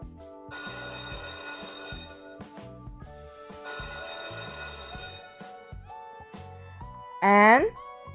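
Electric school bell ringing loudly in two long bursts of about one and a half seconds each, with short pauses between, followed by a brief rising tone.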